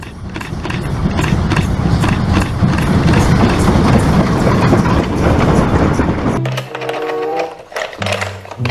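A steady, loud rumbling and rhythmic clatter of a train in the video game Jurassic World Evolution 2, which shifts near the end into a thinner mechanical whir with a low hum.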